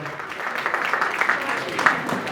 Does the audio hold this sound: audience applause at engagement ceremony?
yes